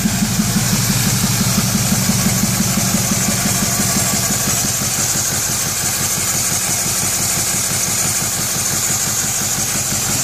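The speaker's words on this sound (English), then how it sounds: "All right, so it starts kind of hard, takes a little bit. She fires up." A 6.0 diesel engine with hard starting and low power idles in park, giving a loud, steady, rhythmic knocking clatter with a slight shake, heard close and alone throughout.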